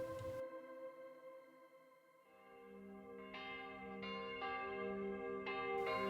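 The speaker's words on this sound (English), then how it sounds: "Church bells were ringing the entire time through town for sunset" Church bells ring across an Icelandic town at sunset: sustained, ringing tones overlap and linger, and a series of fresh strikes builds up the layered chime in the quiet setting.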